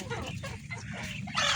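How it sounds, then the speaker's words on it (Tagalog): Farm chickens cluck steadily and close by as they eat bran mixed with water, a busy run of short, overlapping clucks with no talking. "Kahit po yung mga manok sanay na pong kumain ng darak na mayroong halong tubig."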